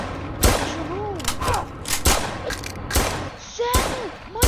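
Police open fire in a Roblox game, with a string of sharp gunshot cracks spaced irregularly over a few seconds alongside whooshing game effects, loud and close.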